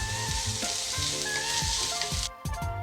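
A pan of food sautés with a continuous dense sizzle, joined by a repeated rhythmic scraping of stirring and a brief clank near the end, close up with no talk.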